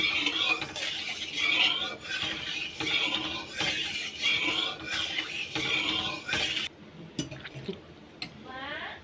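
Milk being heated and stirred in a metal pot for sweets, with repeated scraping and clinking of a spoon against the pot in an uneven rhythm, close and moderately loud, with a brief voice near the end.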